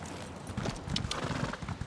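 Horse hooves clip-clop in Elder Scrolls Online, a steady run of close, moderately loud hoofbeats with a possible whinny mixed in.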